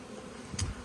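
Honey bees, likely an Italian line, buzz at a hive on a cold 11-degree day, with a faint background hum and one brief louder pass of a bee close by.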